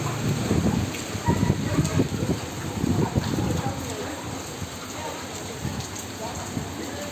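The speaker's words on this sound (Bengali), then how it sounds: "বৃষ্টি হচ্ছে এখনো" Rain continues after a storm in a flooded area beside a shop, a steady wash of drops under people talking nearby, with louder bursts of voices and movement in the first few seconds.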